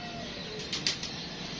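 A young pigeon flaps off alongside an older pigeon, a soft airy wingbeat flurry swelling briefly in the middle over a quiet outdoor hiss, with a faint coo nearby.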